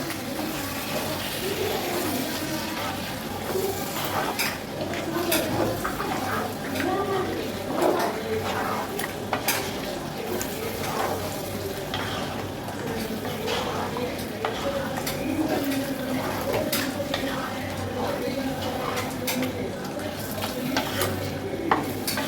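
Chicken for biryani is stirred in a pot with a steady scraping rhythm and faint sizzling, while pigeons coo in the background.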